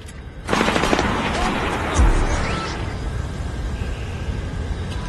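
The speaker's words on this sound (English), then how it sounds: "We're hearing small arms fire in the terminal stand" Small arms gunfire erupts inside an airport terminal during a Splinter Cell: Blacklist mission, a dense burst of rapid shots starting abruptly and continuing as a steady, mid-distance fusillade with a heavier thump partway through.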